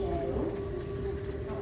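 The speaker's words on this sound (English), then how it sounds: "it marks the end of our tram journey" Tram ride at night through the Night Safari wildlife park in Singapore, a steady continuous rumble of the moving vehicle with a sustained tonal hum, close and even throughout with no speech.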